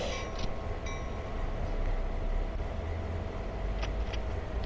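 A diesel locomotive idles on a turntable in the train simulator Train Sim World 2 as its cooling fan runs, a steady low mechanical roar with rumble and whine, loud and continuous with no talking.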